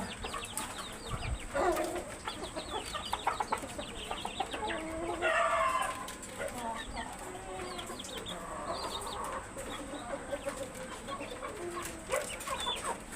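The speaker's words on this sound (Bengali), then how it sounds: "এই যে মোরগ" Roosters and hens on a hill-breed poultry farm cluck and call back and forth, with a rooster crowing midway and other birds chirping around them. The scene is busy but fairly quiet and distant, and no one speaks.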